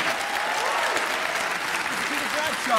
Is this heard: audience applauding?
yes